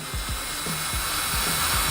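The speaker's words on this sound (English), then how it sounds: "the drill's in low speed, and you'll see right there" A cordless drill running at low speed cranks a McCarty Rapid Crank on a saltwater fishing reel, giving a steady loud whine with a repeating low rhythmic thump from the turning handle.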